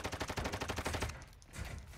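Rapid automatic gunfire in a first-person shooter match, produced by a decoy grenade imitating a weapon: a dense, loud burst of evenly spaced shots for about a second, then thinner, fainter crackling and scattered shots.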